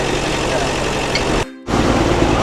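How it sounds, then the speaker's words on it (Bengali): The engine of a Darjeeling Himalayan Railway toy train on the line toward Darjeeling gives a loud, steady, rumbling drone that breaks off abruptly for a moment, then resumes just as strongly. "এইবার আমাদের টয় ট্রেন এগিয়ে যাবে দার্জিলিংয়ের পথে।"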